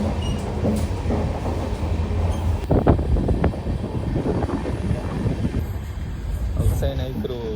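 A train rumbles steadily alongside throughout, with clattering rail noise, a sharper burst of wheel and coupling noise near the middle, and wind buffeting the microphone while people talk over it.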